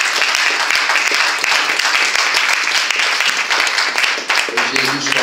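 A church congregation applauding and cheering for Jesus during a French-language service, with loud, dense clapping that fills the space continuously. A voice and some musical tones emerge near the end.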